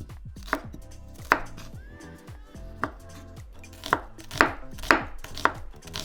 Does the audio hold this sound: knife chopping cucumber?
yes